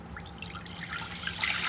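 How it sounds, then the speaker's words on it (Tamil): Thin tamarind water is poured into a traditional stone cooking pot for broken rice puli upma, making a steady, close trickling splash that grows slightly louder as the pour continues. "இதில் நான் வந்து புளி தண்ணியை ஊற்றுறேன்."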